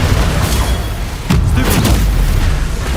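Confringo fire blast spell from Hogwarts Legacy on PS5, heard as a loud, sustained rumbling boom with crackling bursts layered over it, filling the whole moment without any voices.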